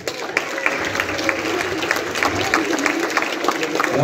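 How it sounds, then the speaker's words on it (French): An audience applauds children at a French premiere event, a dense patter of clapping with voices mixed in throughout, rising slightly toward the end. "On peut les applaudir."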